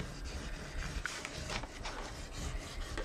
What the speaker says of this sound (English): so that I can just burnish this down